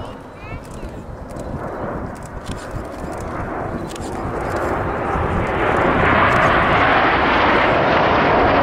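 Red Arrows jets flying in Diamond 9 formation with white smoke at Roskilde Airshow, a broad roaring jet rumble that swells steadily louder as the formation approaches, with crowd noise underneath.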